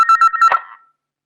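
Telephone keypad tones beep in a quick run of short pulses, then a brief clunk and fading buzz as a call to a father is placed; close and clear, no talking.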